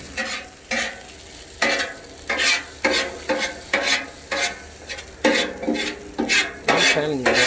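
Spatula scraping and stirring omelet eggs mixed with mozzarella cheese on a seasoned Blackstone griddle, close and fairly loud, with a steady run of short scrapes over a soft sizzle.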